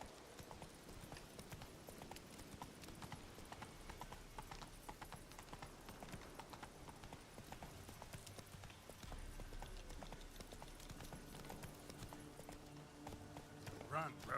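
Roach the horse runs in The Witcher 3, hooves clip-clopping in a steady galloping rhythm beneath dense game music and ambience, with occasional talk over it.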